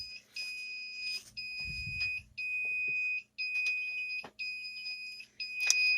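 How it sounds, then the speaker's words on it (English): An automatic egg incubator on a 12-volt solar line sounds its low-temperature alarm: a shrill electronic beep repeats in regular bursts separated by brief gaps, with faint low thumps underneath and no speech. "Yes, it's alarming because the temperature is too low at this time."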